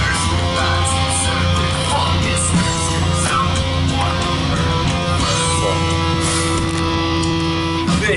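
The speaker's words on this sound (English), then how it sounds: "Some new entrance music, as you can hear." Wrestling entrance music at a live UWE event, loud and continuous with steady sustained tones and a driving beat filling a hall, faint crowd noise underneath.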